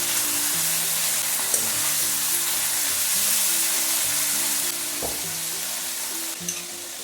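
Chicken pieces stirred and fried in a pan on high flame for a Bengali chicken kosa curry, a steady close sizzle with intermittent scraping and clinks of the spoon against the pan, no talking.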